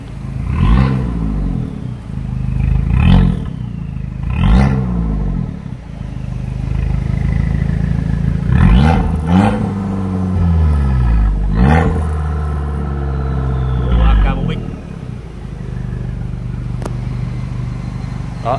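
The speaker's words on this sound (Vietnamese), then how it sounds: "Đây, chúng ta sẽ nghe tiếng bô này." A matte grey Abarth 595 exhaust barks through a series of loud, close revs. Sharp throttle blips rise and fall in quick succession, with a few longer pulls in between.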